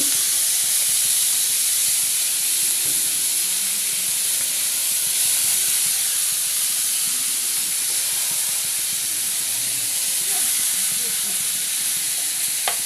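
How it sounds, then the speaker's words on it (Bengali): Bay leaves and chopped onion fry in hot oil, producing a loud, constant hiss and sizzle with no breaks, close up and with no one speaking. "এবার এই তেলের ভেতরে আমি দিয়ে দেব দুটো তেজপাতা, তার সঙ্গে দিয়ে দেব পেঁয়াজ কুচি"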